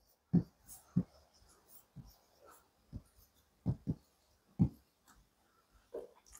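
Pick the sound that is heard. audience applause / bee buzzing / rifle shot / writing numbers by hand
writing numbers by hand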